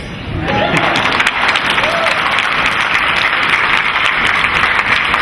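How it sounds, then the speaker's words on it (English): Steady, loud applause from a conference audience at a healthcare event, building within the first half second and then holding as a dense wash of clapping with some faint voices. "this is a round of applause."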